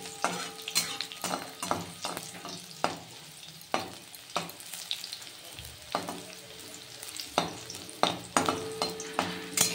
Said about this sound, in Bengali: রসুনটা আমি একটু লাল লাল করে ভেজে নেব, একদম কড়া করে না, একটু হালকা হালকা ভাজবো